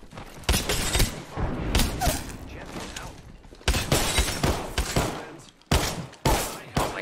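Video game combat with a frag grenade blast and bursts of gunfire, loud repeated booms and rattling shots close by, with voices calling out between them.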